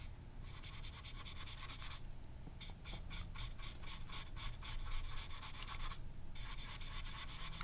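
Close, dry scratching of graphite pencil on paper for a charcoal and graphite portrait, in bursts of quick rhythmic back-and-forth strokes separated by short pauses, alone without talk.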